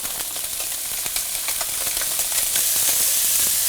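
Perch fillets from Lake Geneva fry in a hot pan, giving a loud, steady sizzle with crackling pops and bright hiss that carries on throughout, with no voices over it.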